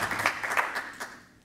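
An audience applauds Hendrik after a presentation, a steady patter of clapping that fades out toward the end, fairly soft and without voices.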